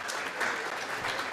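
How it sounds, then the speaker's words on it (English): Short burst of audience applause, an even wash of many hands clapping at moderate volume with no voices above it. "I think a big round of applause for all of them."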